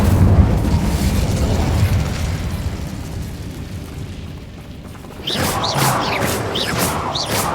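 Incendio fire spell cast in the Hogwarts Legacy video game: a dense, roaring whoosh of flame and crackle, then a pause and a quieter flurry of bright magical zaps and sparkles.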